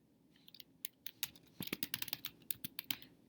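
Rapid keystrokes on a computer keyboard while entering a word into an online dictionary search, with irregular clicks that speed into a quick flurry partway through, close and fairly quiet with no talking.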